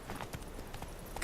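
Roach the horse in The Witcher 3 clip-clops along with a quick, faint, steady hoof rhythm, soft and a little distant.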